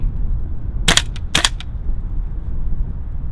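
A GHK Colt M4 gas blowback airsoft rifle running a cold green gas magazine fires BBs in two quick, sharp cracking bursts, each a few rapid shots, loud and close, then quiet hiss.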